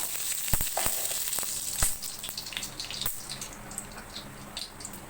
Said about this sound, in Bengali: কড়াইতে একটু ঘি দিয়ে দেবো,